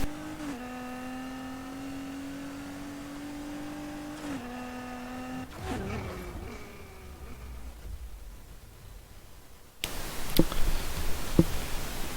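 A car in the racing video game NFS Heat accelerates through a high-speed test, its engine droning in long steady tones with gear shifts and rising pitch, then giving way to rushing noise and sharp impacts near the end.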